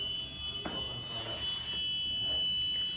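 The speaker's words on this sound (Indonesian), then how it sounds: "Jarak 75 cm, buzzer berbunyi dengan bunyi yang berbeda." Beeping buzzer of a homemade distance sensor device reacting to an object about 75 cm away, a steady electronic tone holding over a constant high-pitched hum and faint background noise.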